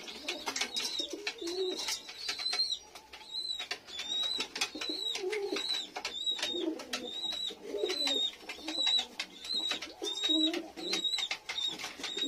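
Domestic pigeons, including a male and a female lakka (fantail) pigeon at feeding time, coo repeatedly in soft rhythmic bursts close by, joined by faint chirps and a thin high tone throughout, with no talk.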